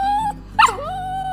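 A dog adopted from a pound gives a single short, sharp yip over a steady background hum, with a quieter whimper around it.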